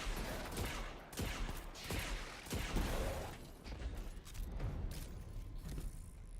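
A sidearm fires in rapid bursts of sharp cracks during a Destiny firefight, repeated shots at an uneven rhythm with booms and mechanical clatter, loud and close, with no talking.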